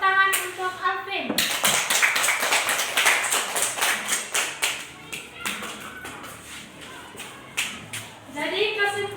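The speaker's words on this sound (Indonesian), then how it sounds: "Kita berikan tepuk tangan untuk Alvin." Classroom applause in a school lesson, a brisk burst of many hands clapping for several seconds that tapers off, with a teacher's voice speaking before and after.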